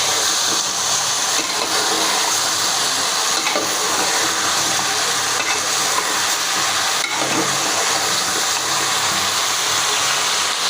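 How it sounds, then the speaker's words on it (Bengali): Sliced bananas, cut and washed in salt, sizzling in oil in a pan as they are stirred, a steady loud hiss with faint scraping throughout. "এবার আমি এটাকে একটু নাড়াচাড়া করে নেব।"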